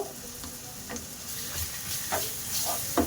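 Onion frying with garlic and ginger paste in a pan gives a steady, close sizzle and hiss, broken by a few soft scraping stirs.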